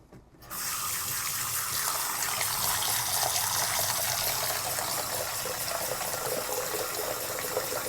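Tap water runs steadily into a bathroom sink, a continuous gushing splash that starts abruptly after a brief quiet moment and stays loud and close throughout, with no talking.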